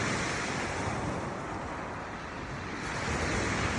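Steady, loud wind roars across a shingle beach at Shingle Street in Suffolk, a dense broadband rush with surf-like swells that ebbs slightly midway and builds again, with no voices.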